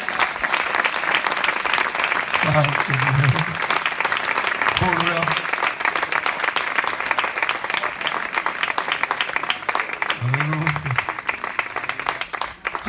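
A church congregation claps and applauds loudly and continuously during a sermon, a dense wash of many hands, with brief voices calling out over it.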